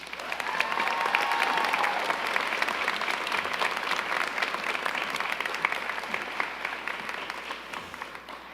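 An audience at a commencement ceremony applauds, with steady, dense clapping rising quickly and holding for several seconds before slowly easing, loud and spread across a large hall.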